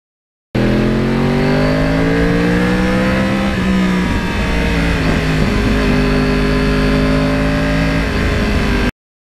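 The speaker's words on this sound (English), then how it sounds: "the Crossplane engine and the sound" Yamaha R1 Crossplane 1000 sport bike engine revving loudly and steadily up close, its pitch rising and falling across several seconds with a continuous rough, throaty drone.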